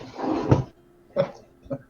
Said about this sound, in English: someone's coughing around the mic